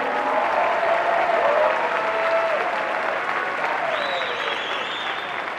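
A large crowd claps and cheers for a cheer squad at a Notre Dame rally, sustained dense applause with whistles near the end, loud and close.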